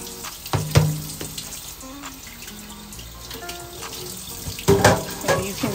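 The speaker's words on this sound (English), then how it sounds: "You see how I'm just trying to get that water out." Water from a kitchen tap runs over rinsed rice and drains off through a loose lid, a continuous close splashing and trickling with light clinks of the pot.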